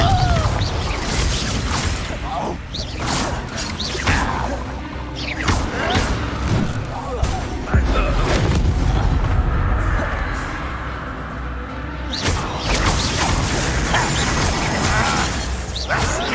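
Confringo spell explosions in Hogwarts Legacy boom and crash repeatedly, with loud bursts, thuds and shattering debris layered over a constant rumble of combat.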